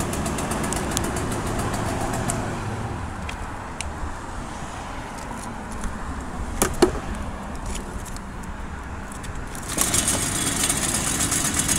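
A piece of lawn care equipment with its engine idling, a steady, even rumble that continues throughout with a few brief sharp clicks over it.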